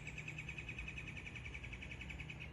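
Birds chirp at a tent campsite in Lake Kissimmee State Park, a quick repeated high call pulsing steadily throughout over a soft outdoor background hiss.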